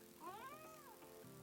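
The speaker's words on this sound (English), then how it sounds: "thanks cat. That's my cat Mambo." A pet cat named Mambo gives a single drawn-out meow, rising then falling, heard alone and fairly faint in a quiet room.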